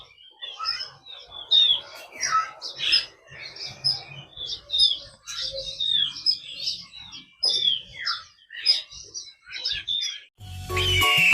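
Caged white-rumped shama nestlings at a bird kiosk chirp in quick repeated bursts of high, thin calls, close and lively throughout, with a brief louder rustle at the end.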